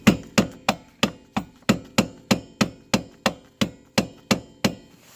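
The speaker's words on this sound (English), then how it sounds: "Take a couple whacks." A hammer strikes a Honda Civic rear wheel hub about fourteen times in a steady, even rhythm; each loud, close metallic whack rings briefly before the next, with no talking.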